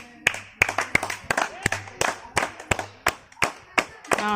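Hands clap repeatedly beside a water spring at a temple, a dozen or so sharp close claps in a quick irregular rhythm, with voices talking between them.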